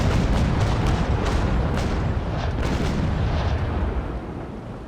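Ship deck guns fire in a naval sailing-era game as a series of heavy booming blasts, several shots in quick succession over a rumbling, noisy background, fairly loud and with no talk.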